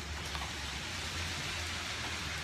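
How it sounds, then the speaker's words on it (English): Steady rain falling outdoors on a grey day, a soft, even hiss of drops with a low rumble underneath, fairly faint and continuous with no voices. "It's raining."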